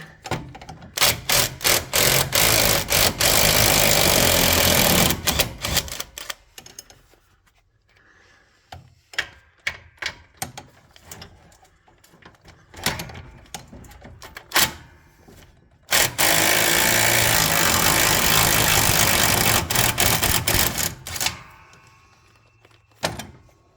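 Engine mounting bolts being loosened on a Husqvarna Rally ride-on mower with a Briggs & Stratton 15.5 HP engine, with long loud bursts of a power tool whirring, separated by sharp metallic clicks, clanks and knocks from the tool and parts.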